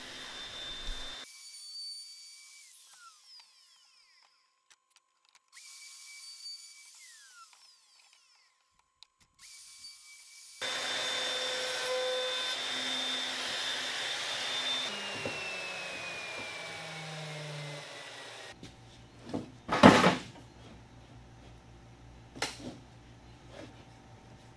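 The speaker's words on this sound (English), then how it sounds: "I'm just using my router on that fence to kind of work that little scoop out in several passes" A power router works a scoop into plywood along a fence in several passes: a motor whine starts and stops a few times, then a longer rough cutting roar, followed by a few knocks and clatters.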